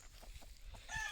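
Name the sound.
rooster clucking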